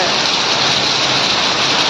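Heavy evening rain pours down in a dense, steady hiss, loud and close, continuous with no pauses or distinct drops standing out.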